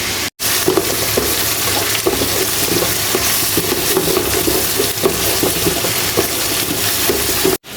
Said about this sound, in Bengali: তেল ভিতরে মশলা দিয়ে বসাই